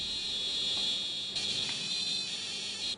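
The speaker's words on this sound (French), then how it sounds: "Le détecteur d'EMF s'est déclenché juste après une question." EMF detector sounding in a cellar during a ghost-hunting session: a steady high-pitched electronic tone that holds for the whole stretch, moderately loud and alone, with no voices.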